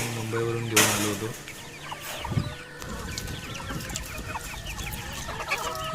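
Village hens in Antravali, Konkan, clucking and murmuring while pecking at tender banana and cowpea leaves, with a loud squawk early on and steady soft clucks after, no talk.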